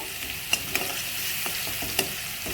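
Eggs frying in a pan for egg curry, a soft steady sizzle with a few sharp clinks of a utensil against the pan, close and alone.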